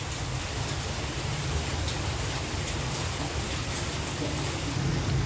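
Heavy rain pours down at night in Saigon, a dense, constant hiss and patter on surfaces with no pause, loud and close throughout.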